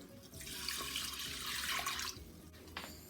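Water poured steadily into a pot of washed long grain white rice, a continuous close splashing rush lasting a few seconds before tapering off.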